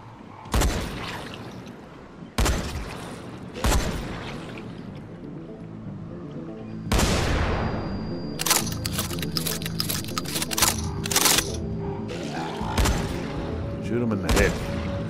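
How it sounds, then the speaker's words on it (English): Gunfire from shooting an enemy in the Dying Light: The Following video game, with several sharp broadband shots spaced across the clip and a rapid burst in the middle, heard alongside game ambience and a voice. "Shoot him in the head."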